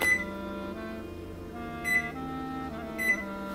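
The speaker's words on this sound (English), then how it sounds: "I'll put the timer on for 25 minutes." Oven timer being set while baking Macedonian Orthodox holy bread, a few clear electronic beeps spaced apart over a quiet steady hum, no voices.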